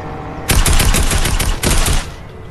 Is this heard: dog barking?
no